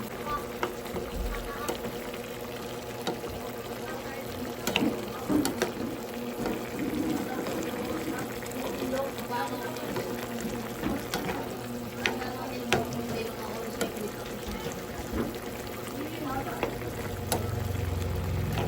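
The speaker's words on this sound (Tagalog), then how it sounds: "Ayan, kumulo na yung ating niluluto." Pineapple chicken (pininyahang manok) boils in a pot with soft, continuous bubbling and occasional clinks of stirring, quiet and close, while a person talks over it.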